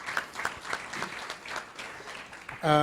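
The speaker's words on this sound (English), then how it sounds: "If you give them a round of applause, I appreciate it." Two young basketball players at a college media day receive a round of applause from the room, a steady spread of clapping that runs for a few seconds before a sustained tone cuts in at the end.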